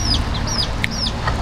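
A country rooster near a temple in Maithon, India, gives short, sharp clucks in quick succession, close by over a low outdoor rumble.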